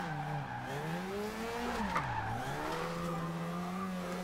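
Mazda RX7 drifting in the racing game Forza Horizon 2, its engine holding a steady high whine with pitch dips while tires squeal continuously through a long slide, loud and close with no talk.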